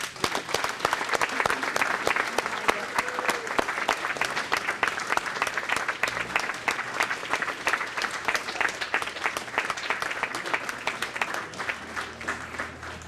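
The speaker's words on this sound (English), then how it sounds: "How about a big round of applause?" Audience applause for military veteran honorees from World War II through present day at a Quilts of Valor presentation, steady dense clapping sustained for over ten seconds without talk.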